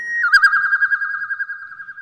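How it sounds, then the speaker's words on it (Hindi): A single bird call, a sustained warbling tone that starts abruptly and trembles rhythmically for about two seconds, loud and close in otherwise silent surroundings, heard as a koel's sweet song. "उसके कानों में कोयल की मधुर आवाज सुनाई दी।"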